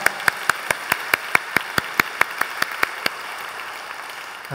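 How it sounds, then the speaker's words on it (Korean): A church congregation claps in a steady, evenly spaced rhythm, sharp regular claps ringing out over a soft room background for several seconds. "우리 하나님께 감사 영광의 박수 올려드리겠습니다"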